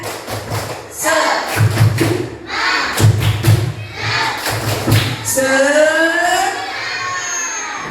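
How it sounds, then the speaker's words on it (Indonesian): Fifth-grade schoolchildren perform a rhythmic spirit clap together, thumping out loud patterned bursts of claps and stomps mixed with group chanting, which ends in a drawn-out shout. "Tepuk semangat."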